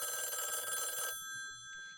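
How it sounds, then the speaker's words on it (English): A telephone in an office rings once in a bright, sustained electronic trill that stops abruptly, leaving a quiet room with faint background noise. "The phone rings."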